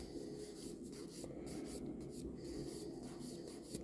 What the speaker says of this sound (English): So I'll just finish buffing this up